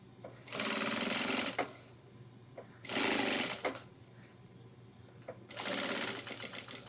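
A sewing machine stitches ultralight backpack fabric in three bursts of rapid, whirring running, each lasting a second or more and separated by pauses with soft handling noises.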